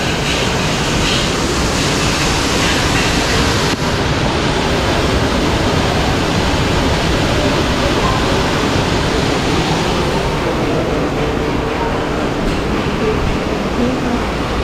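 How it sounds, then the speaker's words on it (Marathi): Dense, constant rushing of the Kondeshwar waterfall near Badlapur, heard close and loud as an even broadband roar, with a slight shift in texture partway through and no talking. "बघा ना पुढे धबधबा केवढा"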